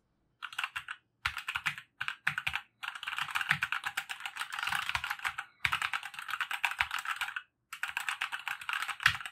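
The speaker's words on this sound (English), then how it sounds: "Now let me show you how the keyboard sounds like while I'm randomly typing on it." Random typing on a Motospeed RGB backlit mechanical keyboard: rapid bursts of clacky keystrokes close up, broken by brief pauses, with no talking.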